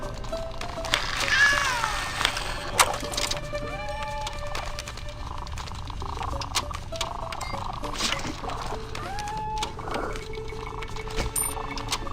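Cat meows from the spy game No One Lives Forever 2, a few short tonal mews rising over a busy layer of game music and ambience, moderately close but partly masked.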